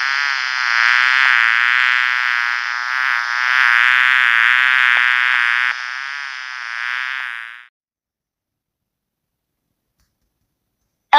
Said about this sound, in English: Queen Bee.